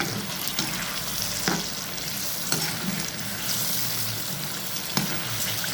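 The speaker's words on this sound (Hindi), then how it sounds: "ये मैंने कबाब डाल दिए।" Kebabs frying in a pan at home give a continuous dense sizzle, with a few sharp clinks or stirring knocks spaced through it.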